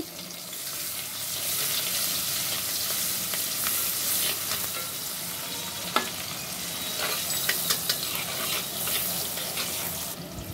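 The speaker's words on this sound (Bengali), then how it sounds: "শুকনো মরিচ আর পেঁয়াজ ভেজে নিচ্ছি" Dried red chilies and onion fry in a pan with a dense, even sizzle heard up close, while a few sharp ticks and pops stand out over the constant hiss.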